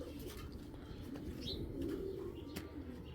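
A purchased racing pigeon coos softly at close range, its low rolling calls set against a faint background with an occasional chirp and light wing flutter.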